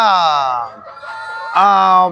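A rooster on a country-chicken (naati koli) farm in Turuvekere crows loudly and close, one long drawn-out call followed by a brief lull and the start of another crow.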